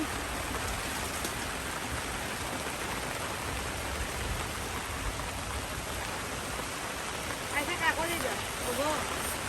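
Heavy rain pours down in a dense, steady hiss of drops on surfaces, loud and continuous, with a voice briefly rising near the end.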